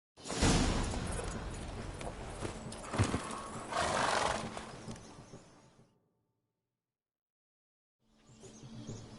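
Roach the horse in The Witcher 3 gallops with rapid clip-clop hoofbeats and lets out neighs, loud and close, then falls silent for a couple of seconds before hooves resume.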